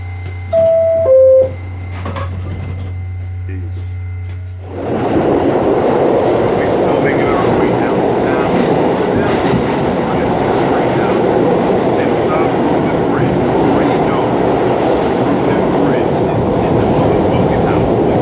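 A New York City subway train rides on a snowy blizzard day with a loud, steady rumbling roar and rattle that sets in after a quieter stretch with a brief tone. It continues unbroken to the end.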